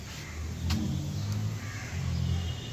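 A 2012 Toyota Land Cruiser Prado engine runs steadily nearby, a deep, even low rumble that swells slightly twice as if lightly revved, with no voices over it.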